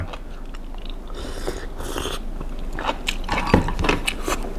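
Crunchy jellyfish salad dressed with sesame oil is chewed up close, with moist crackling crunches and bites in an irregular run that grows slightly louder toward the end.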